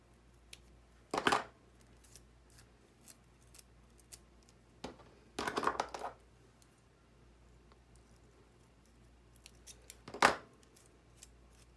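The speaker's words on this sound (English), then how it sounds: "just go in with your scissors and cut a little more" Small scissors snip through the bristles of a tiny broom, three short, crisp bursts of cutting spaced apart against quiet, with no talk.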